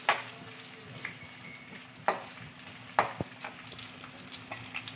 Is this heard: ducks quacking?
no